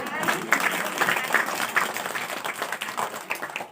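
An audience at a girls' school Independence Day speech competition claps in a dense, lively burst of applause, close and steady throughout.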